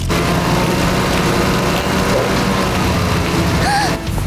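A snowcat engine runs in a Paw Patrol cartoon scene, a loud, steady mechanical drone holding without a break.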